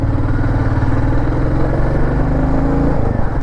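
A Royal Enfield Meteor 350 motorcycle rides on a road toward Shantiniketan, its engine a steady, loud, low thrum at even cruising speed with no voices.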